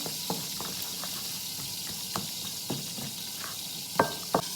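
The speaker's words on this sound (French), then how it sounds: "Donc là on écrase nos jaunes." Organic egg yolks are mashed into mayonnaise in a bowl, with soft wet squelches and occasional light scrapes and taps of the utensil against the dish, close and fairly quiet.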